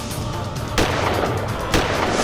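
Two sharp gunshots ring out about a second apart in a Hindi courtroom TV drama, cutting through a dense, noisy background with no speech.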